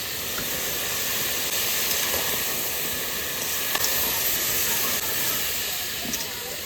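Duck meat fries in oil with turmeric, salt and Kashmiri chili powder, a loud, close, unbroken hissing sizzle that fills the whole stretch with only a few faint knocks.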